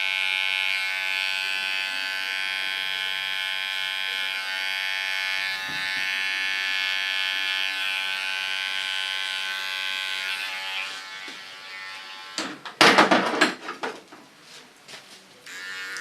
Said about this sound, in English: Clean the hairs with my small clipper.